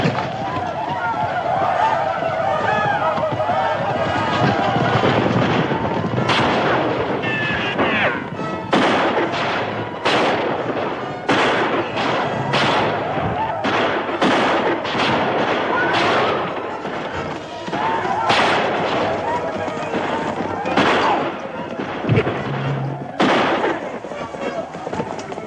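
Rapid gunfire from a western shootout bursts in sharp, repeated cracks and booms over a dense, noisy battle din, with overlapping shots and occasional shouted voices.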